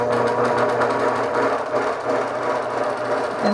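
A computerized sewing machine stitches a tree wall-hanging, a loud, steady, rapid mechanical whirring and thumping that continues unbroken from start to finish, close up.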